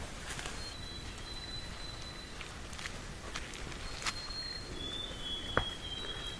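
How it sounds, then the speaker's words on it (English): Birds chirp and call sporadically against a steady outdoor hiss in the Wild River Wilderness, White Mountains, with a few sharper high whistles and chirps standing out now and then. "I could listen to those birds all night."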